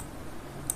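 Two quick, crisp mouse clicks in close succession while working through a database on a computer, quiet and close, with no speech.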